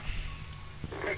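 Reversing beeps from a fuel truck backing away from a Boeing 757-200 at the gate, faint and steady behind a low hum of the aircraft's APU running.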